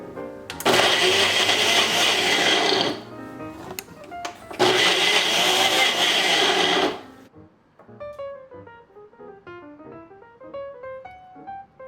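A countertop blender grinds an oatmeal smoothie with no added sugar in two loud, steady whirring bursts separated by a short pause, then stops, leaving quieter clinking and tonal kitchen sounds afterward.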